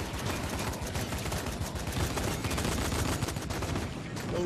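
Rapid, steady gunfire in the video game Dying Light crackles continuously and fairly loud for a few seconds without a break.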